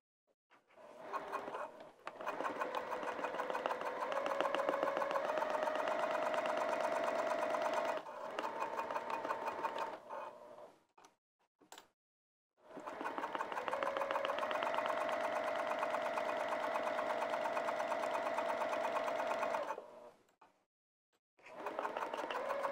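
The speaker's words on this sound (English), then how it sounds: "we're going to sew down the sides and the bottom and secure the pocket to the exterior piece" A sewing machine stitches down the sides and bottom of a fabric bag, running in long steady whirring bursts with a few brief stops between passes, close and alone.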